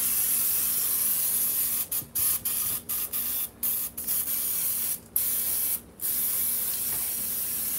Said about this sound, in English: And you just spray on your olive oil.